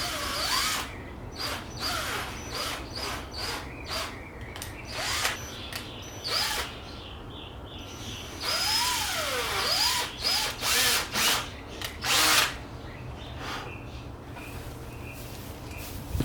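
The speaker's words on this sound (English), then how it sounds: "Drill a hole right here." A power drill boring holes to mount a Greddy carbon fiber lip on a 10th-gen Honda Civic FK7 hatchback, whirring in repeated close bursts that rise and fall in pitch, with ratcheting clicks and pauses between runs.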